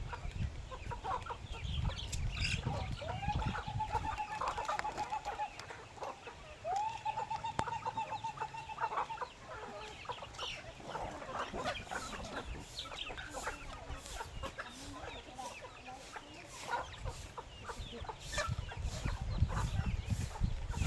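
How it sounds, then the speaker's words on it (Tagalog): Chickens cluck and call around a busy farmyard, with a couple of drawn-out crowing notes early on and steady background bustle. "Manok dami."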